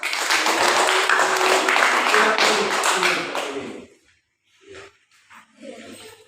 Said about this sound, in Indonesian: Ya, tepuk kanan.